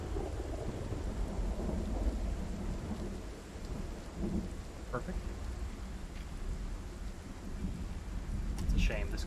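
Steady rain with deep rolling thunder in a video game set in Louisville, continuous and fairly loud throughout, with someone speaking briefly over it.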